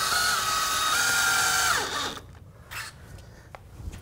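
A power tool drives galvanized roofing nails into a window's nailing flange. A loud whirring burst of nearly two seconds winds down, followed by a few quieter taps and knocks close by.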